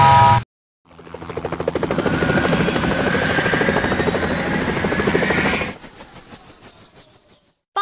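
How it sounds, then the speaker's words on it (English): Firefighting helicopter with rotor blades chopping in a fast, steady pulsing beat that swells loud and close, then cuts off abruptly and trails away in fading thuds. "Firefighting helicopter."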